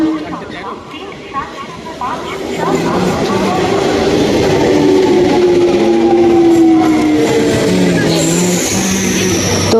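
A train at Hinmoto station, its carriages rumbling and clanking steadily and growing louder after a quieter start, with a high drawn-out squeal or whistle near the end and people talking throughout.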